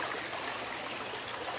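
River water flowing steadily with a broad, continuous rushing wash, close and fairly loud throughout, no voices.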